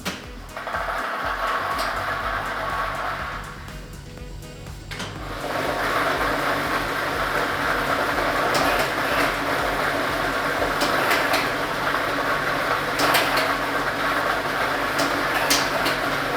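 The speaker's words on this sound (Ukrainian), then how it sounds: "ми вмикаємо лототрон" A lottery drawing machine runs with its set of numbered balls, a continuous mechanical whir and rattle of tumbling balls that starts after a brief clunk and holds steady, fairly loud, throughout.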